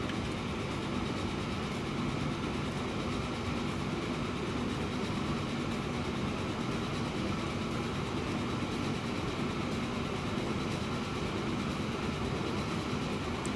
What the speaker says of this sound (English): let's follow this train on its final journey